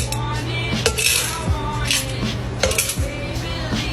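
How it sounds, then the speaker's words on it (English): Ice cubes from a mold clink and clatter into a coffee glass, a steady run of bright, close glassy knocks and rattles with no talking. "Now let's put some ice."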